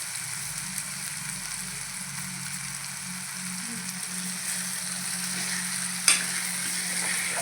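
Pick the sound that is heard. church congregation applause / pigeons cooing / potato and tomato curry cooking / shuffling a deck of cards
potato and tomato curry cooking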